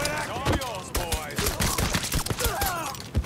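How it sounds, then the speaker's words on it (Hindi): Gunfire during a shootout in the video game Mafia 3, with sharp, repeated bursts of shots at an uneven pace, loud and close, mixed with game voices. "देख कहां कहां से गोलियां चल रही है।"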